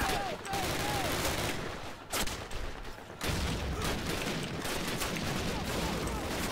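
Dense, sustained gunfire from the World War II shooter Call of Duty: United Offensive, a near-continuous rattle of shots with a short lull partway, loud and close throughout.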